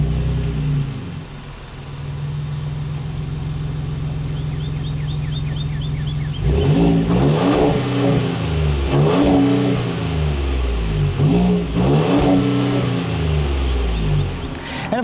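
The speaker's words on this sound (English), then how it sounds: "I also really love the dual exhaust. This is again going to show off the new twin turbo V6." A 2019 Ford F-150 Raptor with a twin-turbo V6 and dual exhaust idles with a low steady rumble, then revs repeatedly in loud, close throttle blips that rise and fall.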